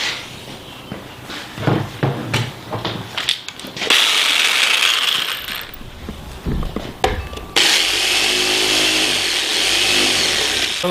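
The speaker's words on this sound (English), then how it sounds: "Now I have a line all the way around my post, and I'm going to saw it. So let's get busy sawing." A hand saw cutting through a wooden fence post, producing continuous rasping strokes with shifting rhythm and intensity, loud and close, with occasional clunks and pauses between bursts of sawing.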